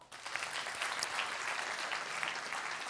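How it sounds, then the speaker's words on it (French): An audience at the closing ceremony of the 36th Festival Mont-Blanc d'Humour bursts into applause, a dense, steady roar of many hands clapping together, loud and sustained throughout. "Voici, applaudissements."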